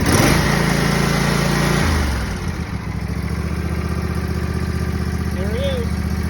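A Husqvarna Z254 zero-turn mower with a 24 horsepower engine, on choke with a new battery, cranks over and catches, then settles into a steady, loud, close idle.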